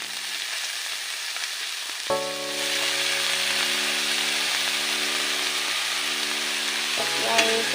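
Chopped banana flower hits onions frying in a pan and is stirred, giving a loud, continuous sizzle with a steady hum beneath it and occasional scrapes.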